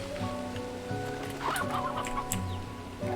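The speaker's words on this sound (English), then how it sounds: "Pretty sure that was a stony hen." A stony hen in Slime Rancher 2 clucks in short, soft bursts amid steady ambient game music and a light patter like rain, moderately near.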